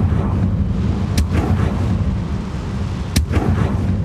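An explosive Confringo spell in the video game Hogwarts Legacy, heard as two sharp blasts about two seconds apart over a loud, dense rumble.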